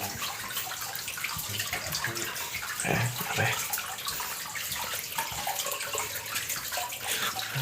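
Water flows steadily along a footpath at Wat Phasi, a Thai Buddhist temple, a continuous splashing wash at moderate distance with a brief louder gush midway and no talking.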